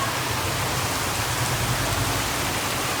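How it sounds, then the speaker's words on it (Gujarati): Heavy rain pouring down as a dense, unbroken roar of drops, loud and close and steady throughout, with no other sounds standing out. "તો ઘડી કેટલો બધો વરસાદ આવે છે"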